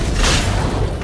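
A booming explosion in God of War, a single heavy blast with a dense low rumble that fills the short moment and fades slightly at the end.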